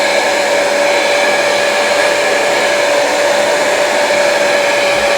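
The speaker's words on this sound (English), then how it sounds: "you're going to take your heat gun. It's got to be a heat gun because blow dryers just don't get hot enough." A heat gun blows hot air onto magic blocks, giving a continuous loud, steady whirring hiss with an even motor hum that holds unchanged throughout and has no talking.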